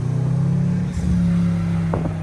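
BMW M550i V8 fitted with an ARM Motorsports cold air intake, idling with a steady low rumble and then blipping into two quick, loud revs near the end, all close up with no talking.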